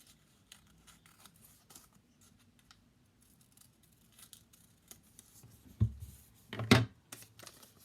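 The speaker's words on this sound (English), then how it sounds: "I cut out my piece of lettuce" Scissors cut out a lettuce shape from thin paper in a quiet room, with soft intermittent snips and paper rustles that build to a few louder, crisp snips near the end.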